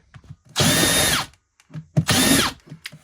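A power drill drilling a pilot hole while installing a waterless toilet in a trailer whirs in two loud bursts of about half a second each, separated by a pause with small handling clicks.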